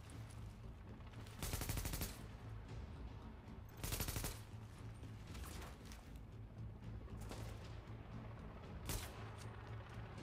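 Automatic gunfire in The Division, a tactical shooter game, with two dense full-loud bursts around two and four seconds and several sharper single reports later, all over a steady low hum of background noise.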